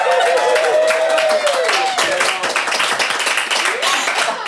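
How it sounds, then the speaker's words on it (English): Delayed applause at a live podcast recording, steady clapping that fills the whole stretch at close range, with voices mixed in over it. "Just some delayed applause there."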